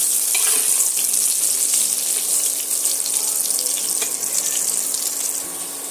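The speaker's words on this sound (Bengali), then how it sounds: "আলুগুলো আমি এখানে সুন্দর করে একটু লাল লাল করে ভেজে নেব" Potatoes, boiled beforehand, fry in a pan until reddish-brown, giving a steady close hiss of sizzling with occasional stirring scrapes throughout, and no one speaking.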